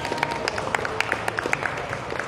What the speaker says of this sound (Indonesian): Tepuk tangan buat Mbak Mira Lesmana.